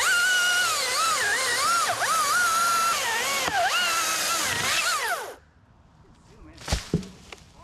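A chainsaw cuts through a big maple tree, running loud and close with its pitch bending up and down as the chain bites, then cuts off abruptly, followed by a few sharp knocks.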